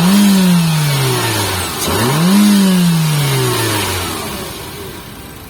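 A 2022 Mitsubishi Xpander Cross facelift with a 1500cc engine revs up close and loud, winds down, surges again in a second rev, then settles into a fading idle, with no voices.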